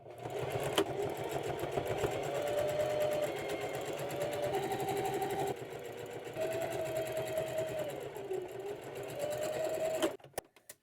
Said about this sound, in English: Now I'm ready to sew down each side of the bag, and I'm going to use 1/4 inch seam allowance.